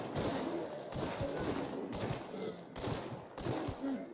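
Pistol shots in a video game, four or five loud gunshots fired at a steady interval about one second apart, each with a dense blast and short tail, with no talk.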